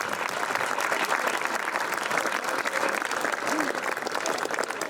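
Audience applause at a village gathering in Ponzano Veneto, a steady, crowded patter of many hands clapping throughout, with voices mixed in beneath it.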